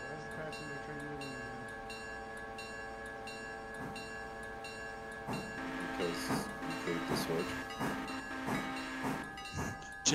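Trains in the railway game Railroader, including a passenger train, rumble along with a steady, droning horn-like tone and scattered sharp clanks that grow busier and louder toward the end.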